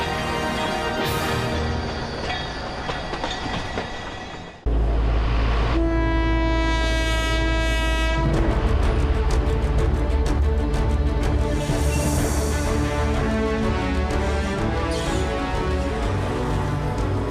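A train on the Alishan forest railway in Taiwan rumbles loudly close by, sounding a long horn blast partway through, then continues with heavy, steady clattering and rolling noise.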